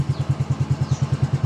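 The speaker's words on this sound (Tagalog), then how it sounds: "Tapos na tayo mag-change oil at papaganahin na start na natin." Motorcycle engine running just after an oil change done with cooking oil, a close, even idle of rapid regular thumps.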